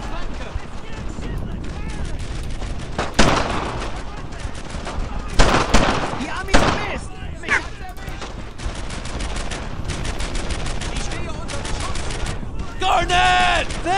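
Squad weapons in the World War II shooter Brothers In Arms: Earned In Blood keep up dense, continuous gunfire, with rifle cracks and machine-gun bursts overlapping through the whole stretch and a few heavier blasts standing out.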